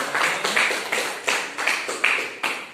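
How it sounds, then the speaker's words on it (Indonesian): A class gives applause to a student group in a rhythmic, unison pattern of about eight beats. The hits are evenly spaced and moderately loud in a room with some echo. "Tepuk tangan dulu untuk kelompok 2"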